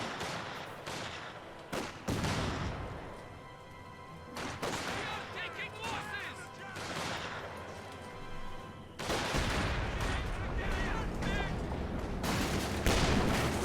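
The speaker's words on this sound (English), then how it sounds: "So we see the mortar here doing a lot of damage, using the flare" Mortar fire in the video game Company of Heroes 2, booming shots and impacts mixed with bursts of rapid gunfire, loud and layered, with a commentator's voice talking over parts of it.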